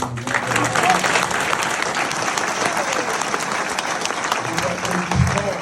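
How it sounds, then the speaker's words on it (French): An audience breaks into sustained, dense applause, many hands clapping loudly and continuously with crowd murmur mixed in, holding steady for several seconds. "les applaudissements"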